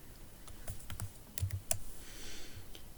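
Typing on a computer keyboard produces an uneven run of quiet, close clicks and taps, with a few sharper keystrokes mixed in against a low background hum.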